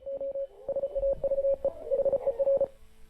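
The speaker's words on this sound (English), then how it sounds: "Is that Morse code?" Morse code signal tones from a creepypasta analog-horror remake, a clear single-pitched beeping in short and longer bursts with brief gaps, fairly close and moderately loud over a faint low rumble.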